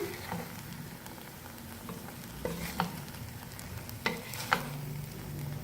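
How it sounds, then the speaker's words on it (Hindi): Cooked rice and vegetables are stirred together in a pan over a low sizzle, with a handful of spoon scrapes and knocks at irregular moments and no speech. "चावलों को हमने वेजिटेबल के साथ अच्छी तरह से मिक्स कर लिया।"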